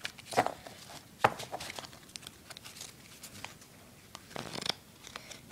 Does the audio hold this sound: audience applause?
no